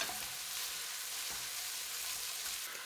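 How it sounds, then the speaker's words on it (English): White and purple onions fry in a pan to caramelize, giving a steady close sizzle with faint stirring scrapes and no voices. "we're gonna make the onions caramelized"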